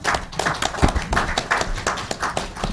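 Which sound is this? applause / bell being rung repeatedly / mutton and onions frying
applause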